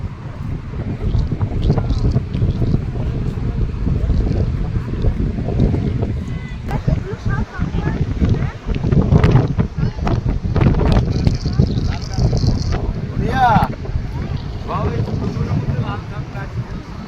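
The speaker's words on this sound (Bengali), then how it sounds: "ঠান্ডা ঠান্ডা হাওয়া আছে" Gusty, cold wind buffets the microphone in a continuous low roar at a river mouth by the sea, while people talk intermittently beneath it.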